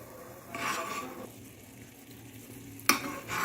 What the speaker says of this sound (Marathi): आणखीन तीन ते चार मिनिट याला व्यवस्थित उकळून घेऊ